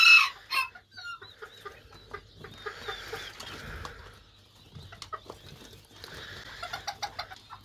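A broody hen, a gurk tavuk, clucks in low, grumbling bursts nearby, with a brief sharper squawk at the start and quieter bird calls around.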